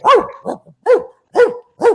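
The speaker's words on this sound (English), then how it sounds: "that's a convincing dog bark" A dog barks five times in an even rhythm, each bark loud and close with short gaps between, and no other sounds around it.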